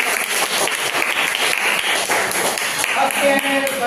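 A class of students bursts into loud, dense applause, continuous hand clapping that fills the room for several seconds with faint voices mixed in.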